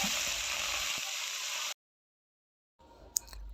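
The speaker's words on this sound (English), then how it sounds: "to a clean saucepan, I'm going to add oil and let it heat until it reaches its boiling point, and then add my omena" Small omena fish frying in hot oil in a saucepan, a loud steady sizzle that cuts off abruptly, then a quieter crackle returns with a sharp click.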